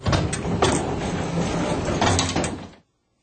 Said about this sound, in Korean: 엘리베이터 문이 닫히는 소리,